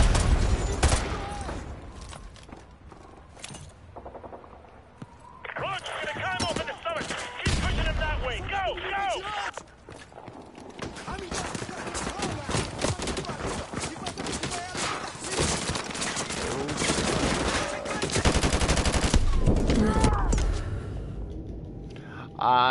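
Video game gunfire rattles in bursts and dense volleys, loud and continuous across long stretches, mixed with game voices and effects.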